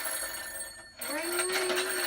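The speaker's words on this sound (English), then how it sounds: "Ring, ring. Janie's mom answers the telephone." A telephone bell rings, a bright sustained electronic tone that breaks off briefly and then resumes, heard alone and fairly loud.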